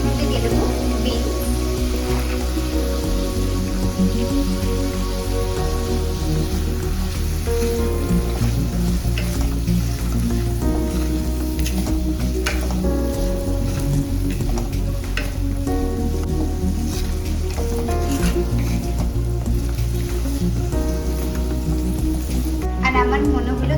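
Beans fry in oil in a pan over a raised flame, a loud continuous sizzle beneath a steady background of music-like tones.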